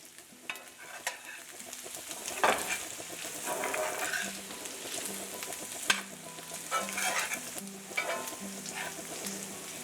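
Meat and garlic frying in a hot pan for red chile, a steady crackling sizzle broken by scraping stirs and clanks of a utensil against the pan, close and fairly loud with a faint background hum.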